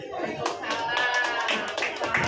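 Applause from a family gathering at a Halal bi Halal event, a short burst of many hands clapping close by and fairly steady, with a little voice mixed in.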